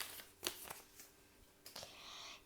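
Soft crinkling and rustling of a small paper gift bag being picked up close by, with a few brief crisp rustles, faint and without talk.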